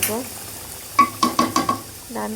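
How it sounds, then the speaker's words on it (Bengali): Chilies and onions are fried in a pan for a jackfruit seed mash. Five quick scraping stirs come in a rapid row, and a voice is heard just before and after. "এখানে মরিচ পেঁয়াজগুলো ভেজে নিচ্ছি। ভালো করে ভেজে নেব।"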